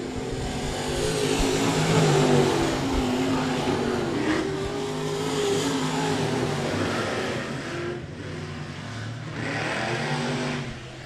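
Mini sprint race cars roar around a speedway oval, a dense layered engine drone rising and falling as cars pass and accelerate, loud and continuous throughout.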